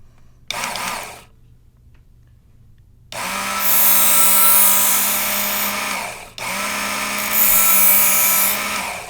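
A Darex Work Sharp belt sharpener running an 80 grit belt grinds a knife edge, giving a steady high abrasive whine in two sustained passes after a brief motor burst, with no talking.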